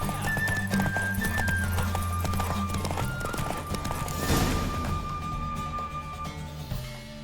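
Horse hooves clip-clopping at a gallop during a race in the video game The Witcher 3, with occasional whinnies, steady rhythmic hoofbeats over a sustained musical drone and game ambience, fairly loud throughout.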